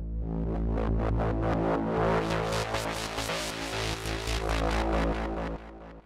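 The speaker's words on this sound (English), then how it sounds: "And with delay it now sounds like this." An acid sequencer synth lead run through a delay effect plays a steady stream of rhythmic pulsing notes over a sustained bass drone, with repeating echoes filling the gaps at an even, moderate level.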